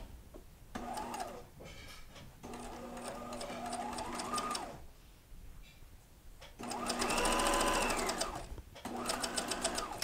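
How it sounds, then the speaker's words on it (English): A sewing machine runs zigzag stitching over yarn along a fabric edge for a peplum blouse, in three close, steady bursts of rapid needle clatter separated by brief pauses. "then you're gonna zigzag over the yarn"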